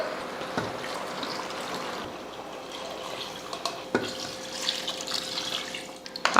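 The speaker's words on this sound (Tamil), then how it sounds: "இப்போ தண்ணி சேர்த்துடலாம்" Water pours into a pan of country chicken curry in a home kitchen, a steady splashing, trickling stream running for several seconds, close and fairly quiet.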